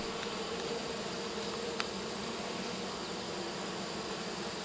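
Honeybees hum in a steady, even drone around a hive at the end of July, a continuous moderate buzz with no talking.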